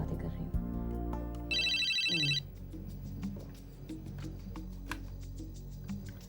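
A telephone rings in a short, bright, rapid electronic trill in the middle of a room scene, with people talking before and after it.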